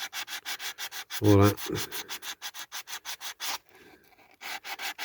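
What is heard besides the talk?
sanding a diecast MGA model bonnet with sandpaper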